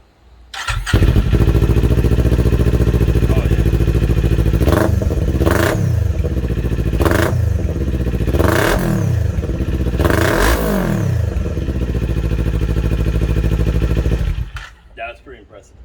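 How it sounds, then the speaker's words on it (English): A Kawasaki Z400 motorcycle with an open, unbaffled aftermarket exhaust fires up and idles loudly, then revs sharply several times, each rev rising and falling back before cutting off. "this is what it sounds like without the baffle"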